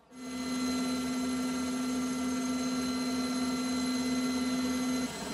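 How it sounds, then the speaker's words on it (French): A military Caïman helicopter heard from on board, flying in a formation of about twenty helicopters over the Champs-Élysées for a 14 July air parade rehearsal in Paris: a loud, steady engine and rotor drone with a strong constant whine. "cet hélicoptère et la vingtaine d'autres vont défiler maintenant dans quelques secondes sur les Champs-Élysées"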